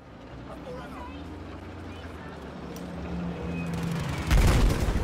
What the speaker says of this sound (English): They just blew up all our tanks the moment we spawn